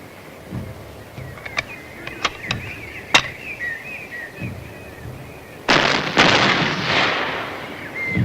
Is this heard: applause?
no